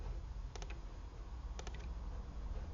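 Two quick pairs of faint computer mouse clicks, a second apart, sit over a soft low room hum in a quiet office setting.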